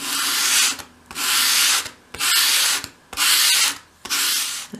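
Sandpaper sweeps a 45-degree bevel onto the edge of a 2.5mm sheet of wood for a 1/12th scale dolls house dressing table, giving five long, even rasping strokes with short pauses between them, close and steady.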